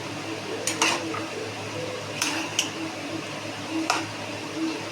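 Goan beef and pork stew with macaroni being stirred in a pot, with a few scattered metallic clinks and scrapes of a spoon against the pot over a low steady background hum.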